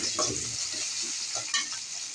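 Chopped onions frying in oil with bay leaves, cinnamon, cardamom and peppercorns, a soft continuous sizzle with light stirring scrapes throughout, fairly quiet and without any voices.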